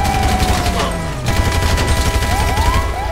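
Rapid gunfire bursts crack out in GTA 5 gameplay, loud and close, with whooshing game effects between shots.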